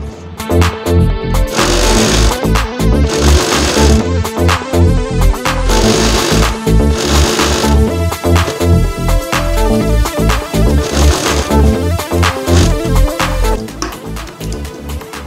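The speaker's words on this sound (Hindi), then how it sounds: "कितनी अच्छी सिलाई हो रही है" Sewing machine stitching through newspaper, a loud, close, fast mechanical clatter of needle strokes running steadily for the whole stretch with no voices.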